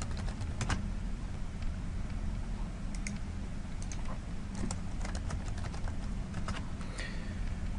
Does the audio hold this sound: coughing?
no